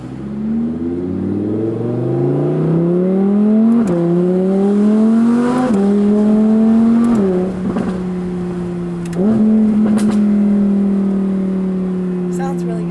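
Audi R8 fitted with a new $8000 aftermarket exhaust, revving in a series of rising and falling engine swells with a distinct rasp, close and loud, while people talk nearby.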